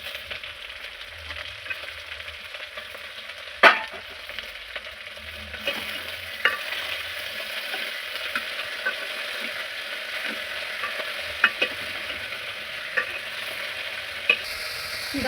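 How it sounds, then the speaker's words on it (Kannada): Broad beans and brinjal sauté in tempering oil, a steady close sizzle broken by sharp scrapes and clicks of a spoon stirring in the pan, continuous over fifteen seconds. "ಚಿಕ್ಕಡಿಕಾಯಿ, ಬದನೆಕಾಯಿ ಒಗ್ಗರಣೆಯಲ್ಲಿ ಸ್ವಲ್ಪ ಬಾಡ್ಸ್ಕೋಬೇಕು."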